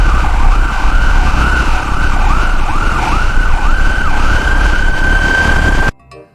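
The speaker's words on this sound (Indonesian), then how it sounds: "Widih, ternyata mobil ambulans." A toy ambulance siren wails loudly and close by in repeating rising and falling sweeps. It stops abruptly near the end.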